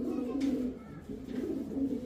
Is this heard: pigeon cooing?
yes